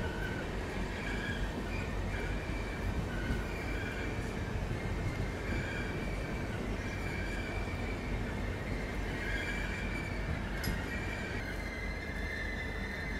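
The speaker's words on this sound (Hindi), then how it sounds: "तो ये जो छोटी लाइन की ट्रेन आपको दिख रही है ये चलती है यहाँ से एक अमरेली के लिए भी" A narrow-gauge train at Junagadh Junction rumbles steadily with continuous wheel and carriage noise and faint squeal, close and loud throughout with no talking.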